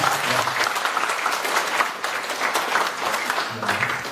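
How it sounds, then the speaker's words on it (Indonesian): Sustained audience applause at an Indonesian spiritual talk: dense, continuous clapping from a crowd that holds steady for the whole stretch, with faint voices beneath it. "kita kasih tepuk tangan sekali lagi"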